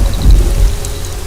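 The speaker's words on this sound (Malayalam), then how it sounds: "നന്നായിട്ട് ഇടിയും വെട്ടുന്നുണ്ട്." Heavy rain pours steadily with a deep, rolling thunder rumble underneath, a continuous, close wash of sound with no voices.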